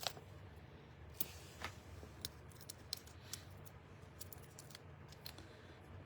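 Scissors snip edge pieces of paper for a Christmas card, quiet crisp cuts in an irregular series of single clicks, close and faint, with no talking.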